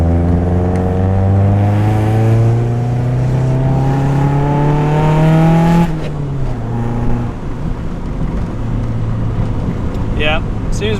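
A B20-swapped EK hatchback drives along with its engine loud and close, climbing steadily through a gear before a shift drops the revs and it pulls on again, with road and wind noise underneath.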